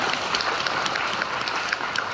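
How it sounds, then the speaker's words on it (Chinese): Audience applause at a Tianjin evening crosstalk show, steady, even clapping from a crowd sustained throughout without a break, moderately distant. "把掌声再次送给王小雨啊"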